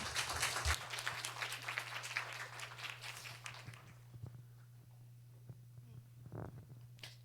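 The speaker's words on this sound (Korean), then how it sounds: "여러분 위로와 격려의 박수로 힘차게 해주세요" A church congregation claps during a Sunday worship service, a dense burst of applause that dies away after a few seconds, leaving a steady low hum with scattered faint sounds.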